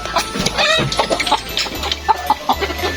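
Several chickens cluck in short, scattered bursts nearby, with low background rumble and no talking.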